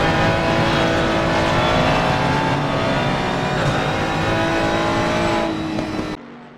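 Two big front-engine V8 race cars battling along Conrod, a loud continuous roaring engine note with rising pitch, close and full, cutting off abruptly near the end.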